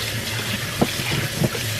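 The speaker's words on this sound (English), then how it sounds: "Rinse off my turkey." Tap water running steadily over a raw Thanksgiving turkey being rinsed in a kitchen, a close continuous splashing stream with a couple of soft knocks.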